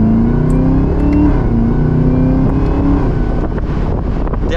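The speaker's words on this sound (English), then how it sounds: "let's listen to that supercharger and that exhaust" A 2023 Chevrolet Camaro ZL1 Convertible, top down, revs up loud and close, its supercharger whine rising and falling over the exhaust roar, with some wind buffeting and no talk.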